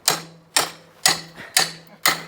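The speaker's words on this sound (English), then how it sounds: "Glasses on, big hammer, the ultimate tool for doing any job, hard enduro repairs." Five sharp metallic hammer blows from a big hammer straightening a bent hard enduro motorcycle part, at a steady, even pace, each ringing briefly before the next strike, close and clear.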